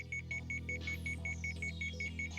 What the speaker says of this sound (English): His alarm started to sound.